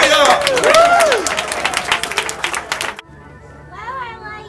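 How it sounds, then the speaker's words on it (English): A lively round of applause breaks out at a Thor launch party. Close, dense clapping comes with cheering and children's voices, then fades to scattered talk. "Round of applause for comic trivia!"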